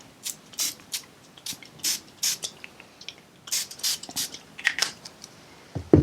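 Several quick, sharp bursts of Siesta Key Coloration Spray hiss onto a paper journal page in uneven succession, close by, with brief pauses between them and a faint handling noise at the end.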